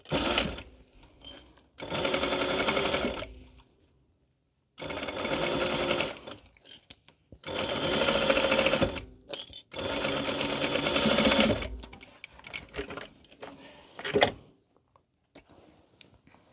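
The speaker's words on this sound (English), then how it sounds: "Okay, so we're going to sew this closed." Sewing machine stitching an infinity scarf closed, heard in several separate bursts of rapid mechanical whirring, each lasting one to three seconds with short pauses between them, close and fairly quiet.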